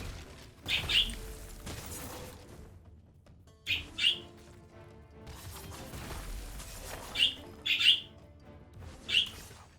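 Short bright bird chirps from the Wizard of Legend 2 video game come in small paired bursts every few seconds over a quiet low game ambience.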